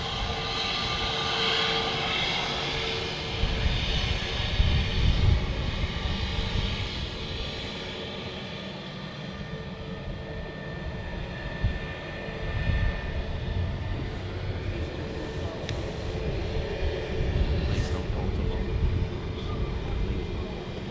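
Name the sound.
Norwegian Boeing jet airliner at Manchester Airport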